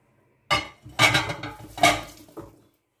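Veal cheeks dropped into a hot pan land with three loud, close metallic clatters and sizzling bursts, the last one softer, followed by quiet.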